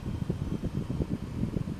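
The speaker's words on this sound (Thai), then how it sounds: "เนี่ยเปิดแอร์ดูดิ" Air conditioning fan running inside a Mercedes-Benz E250 CGI with the engine idling, a steady, fairly loud whooshing blow heard alone.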